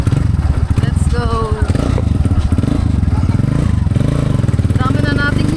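Motorcycle engines idling and rumbling close by on a rural road, a loud continuous low throb with a steady pulsing rhythm, with speech mixed in over the engine noise.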